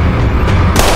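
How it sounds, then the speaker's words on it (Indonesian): A gunshot rings out during a tense scene from the crime drama The Blacklist, a loud, sharp crack laid over a dense, booming background of action-scene sound. "Di mana agen Malik berhasil menembak Richard, tapi sayangnya hanya mengenai lengannya saja"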